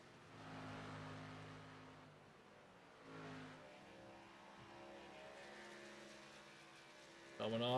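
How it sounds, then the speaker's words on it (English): Stock race car engines drone past on the track at Darlington, a sustained roar with shifting pitch as cars pass, ending in a louder surge near the close. "Your leader right there, the 70 car, Aaron Smith."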